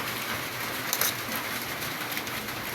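Steady rain hisses throughout, with scattered drops tapping on a surface nearby and no voices.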